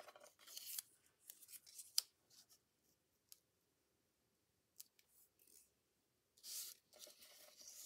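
Scissors cut a paper tag in short, crisp snips, some in quick clusters and others isolated, close and quiet with near-silence between cuts and a longer crunchy cut near the end.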